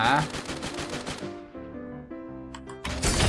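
Gunfire in a Thai battle royale video game: rapid automatic bursts, loud at the start and again at the end, with a quieter stretch of game sounds between them.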